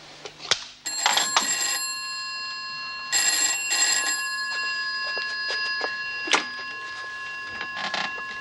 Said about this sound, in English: There, it's ringing.